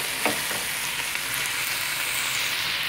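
Onions frying in a pan for Kerala-style mutton curry, a steady dense close sizzle with light stirring scrapes throughout, no voices.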